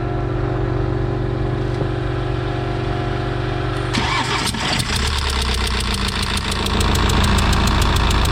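BMW 520d F10 diesel cranks and fires up about four seconds in, then settles into a loud, steady clattering idle with a faint hum beforehand.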